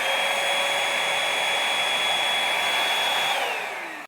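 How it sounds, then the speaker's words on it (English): A Dirt Devil Simpli-Stik stick vacuum runs with a steady, loud high-pitched whine and airy roar, then its pitch drops as the motor begins to wind down at the end. "slide this button down and it will turn on the vacuum"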